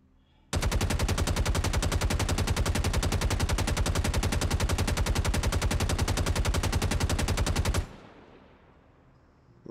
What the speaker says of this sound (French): On gère beaucoup mieux la rafale.